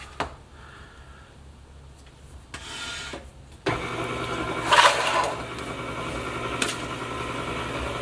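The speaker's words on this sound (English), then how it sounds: "I'm going to give it a few minutes on the mixer here." A stand mixer kneads a wet oat and rye dough. It is quiet at first, then a steady mechanical motor whir starts partway through and runs on continuously, close by.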